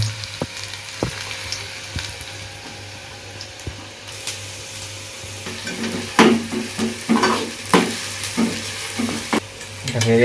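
Onion frying in a pan for a curry, a low sizzle broken by a run of sharp scraping stirs and clatters in the second half, fairly close.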